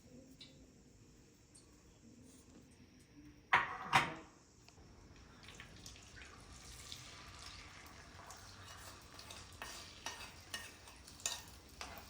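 Eggs fry in a pan in a village kitchen, a faint steady sizzle broken by a sharp clatter and splash of stirring, then continuing crackle with scattered small knocks, no voices present.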